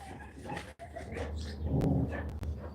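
Dogs barking and whimpering indoors, with yips and barks mixed among a busy, muffled background, moderately loud and irregular.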